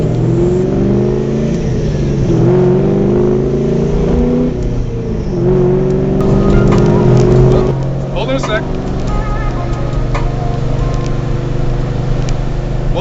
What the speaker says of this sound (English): So we're gonna take this car out on the road and see what it does.